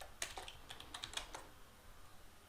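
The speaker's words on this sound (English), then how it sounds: "I can go ahead and type my password" Keystrokes on a computer keyboard while a password is entered at a login screen, a quick run of light clicks close by in a quiet room, no talking.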